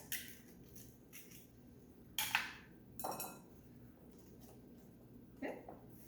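Eggs being mixed into apple fritter batter in a bowl, with a few faint scraping and clinking strokes spaced apart in a quiet kitchen.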